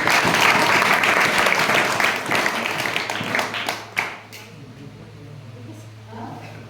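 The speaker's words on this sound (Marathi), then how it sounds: "टाळ्या वाजवा तिच्यासाठी" Classroom applause for a student at a secondary school, a dense burst of many hands clapping that starts loud and tapers off over several seconds, fading into quieter room noise with faint talk.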